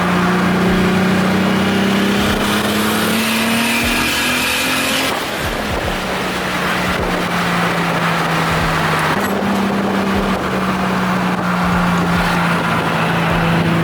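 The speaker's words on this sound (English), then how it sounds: "Turbo noises are pretty fun." A loud turbocharged BMW E30 engine roars steadily, its drone shifting pitch as it revs up and settles, with a turbo hiss and whoosh on top throughout.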